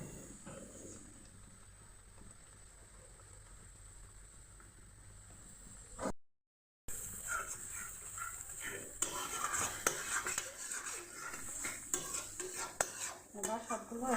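Spices for egg biryani being stirred and sautéed in a pot, a steady scraping stir with soft sizzling and occasional clinks of a utensil against metal, close and fairly quiet, with a brief gap midway.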